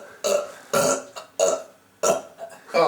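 A series of loud, close burps, four main bursts in a little under three seconds, each abrupt and rough with brief pauses between.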